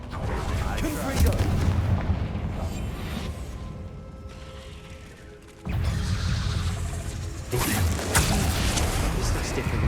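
A Confringo fire spell blasting a barricade in the video game Hogwarts Legacy, heard as loud, booming explosive rumbles with mechanical clatter, dipping briefly before a renewed heavy blast.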